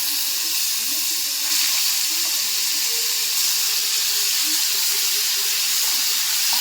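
Onion paste fries in hot oil over whole cumin seeds, giving a loud steady steaming hiss with faint bubbling underneath. The sound stays continuous and close for several seconds, with no talking.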